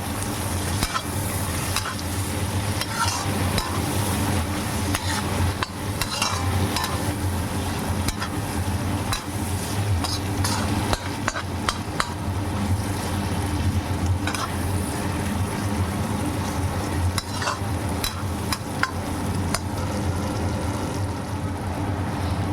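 Shrimp with turmeric and salt stirred and fried alongside crushed garlic and onion, a loud continuous sizzle with steady scraping of a spatula across the pan throughout, no voices.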